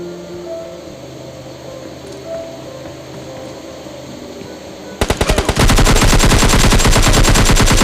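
Automatic gunfire in the mobile battle royale game PUBG Mobile Lite, starting abruptly after a quiet stretch as a few quick shots and then a loud, sustained rapid burst that runs to the end.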